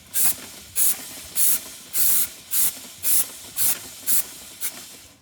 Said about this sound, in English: Good thing with this spray, so you know where you've already been.